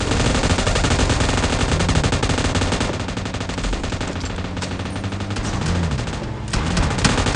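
Automatic gunfire from PUBG Mobile rattles in dense, unbroken bursts, loud and close throughout, with a few heavier booms mixed into the steady roar of shots.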